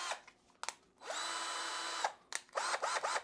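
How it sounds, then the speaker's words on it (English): A WORKPRO 20V cordless drill spins up close and loud, whirring steadily for about a second before stopping, with short clicks and brief bursts around it. "Now the drill has the 2 speeds basically."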